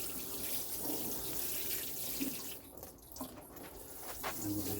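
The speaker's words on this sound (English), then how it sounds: "give them a nice drenching" A steady, hissing stream of water pours and splashes onto plants and soil, continuous and close, with slight changes in flow.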